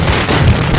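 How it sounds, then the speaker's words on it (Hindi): Firecrackers go off at a village welcome, a single loud, close blast with a brief rumbling burst and no speech. "पटाखे फोड़ो।"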